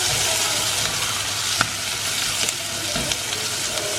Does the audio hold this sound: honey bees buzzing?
no